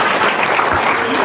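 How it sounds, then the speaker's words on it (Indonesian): A short burst of audience applause at a talk, dense steady clapping throughout. "Tepuk tangan dong."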